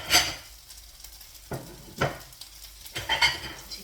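Food frying in a pan at breakfast, a soft sizzle underneath with scattered clinks and scrapes of a utensil stirring against the pan, in short irregular bursts.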